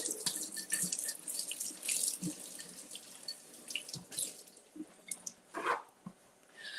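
Grapes rinsed under a running tap, a close steady hiss of water with splashes, drips and light handling knocks in the sink.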